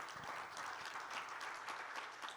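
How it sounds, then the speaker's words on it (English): An audience at an Indian panel on battery manufacturing for the energy transition gives a round of applause: dense, steady clapping held at a fairly even level for the whole stretch, with no talk over it. "Please, one big round of applause for."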